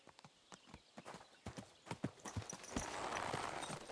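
Horse hooves clip-clop in Kingdom Come Deliverance as a rider sets off, a quick irregular run of close, crisp hoof strikes that gives way to a louder, steady rushing background near the end.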